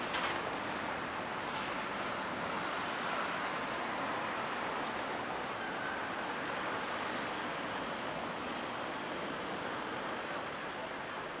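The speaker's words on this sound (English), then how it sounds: "As you can hear, there's quite a wind blowing today" Strong outdoor wind in Görlitz, a continuous broadband rushing roar buffeting the microphone throughout, steady and loud, with no talk.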